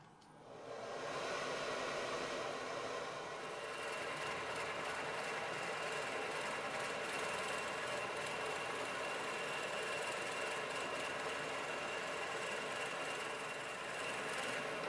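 A wood lathe drills into a natural edge crotch bowl with a 1.5 inch Forstner bit held in a Jacob's chuck on the tailstock, producing a steady loud whirring, grinding drone that starts quickly and holds throughout.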